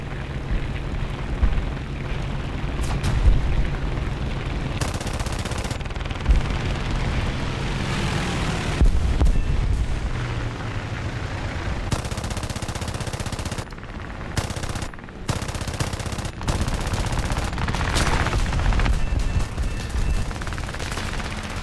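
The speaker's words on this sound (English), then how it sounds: "first bomb run, we have 16 50-pound bombs" In a War Thunder air arcade bomber run dropping 50-pound bombs, rapid machine-gun bursts and booming explosions come loud and close over a constant aircraft engine drone.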